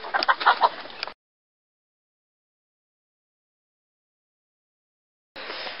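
Chickens cluck loudly in a quick flurry for about a second, then silence falls before a brief burst of noisy clucking and scuffling returns at the end.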